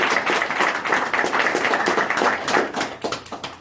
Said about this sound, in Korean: 우리 개발팀 직원들한테 격려의 박수 한번